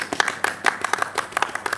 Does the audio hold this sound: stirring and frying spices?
no